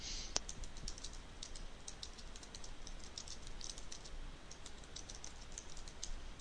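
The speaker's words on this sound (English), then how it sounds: "just type something really short here" Faint, rapid keystrokes on a computer keyboard tap along steadily over a quiet room hiss, soft and close.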